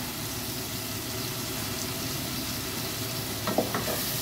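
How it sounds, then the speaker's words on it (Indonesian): Onions sautéing in a little oil with a bit of butter, cooked in a Saudi Arabian home kitchen, give off a steady, soft, even sizzle with a couple of faint utensil clinks near the end. "Di sini saya tumis bawang dengan minyak, sedikit minyak ya."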